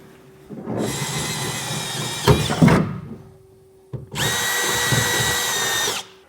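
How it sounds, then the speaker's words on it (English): A power drill whines at high speed in two long bursts, drilling holes in metal for a fifth-wheel trailer hitch, with a clunk and rattle between them and a brief pause before the second run. "So now we'll just go ahead and get started drilling our holes."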